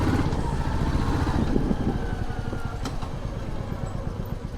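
A motorcycle engine idles steadily at close range with a low pulsing rumble, just before the bike is parked near a gym; there is some background noise, and faint voices may be present.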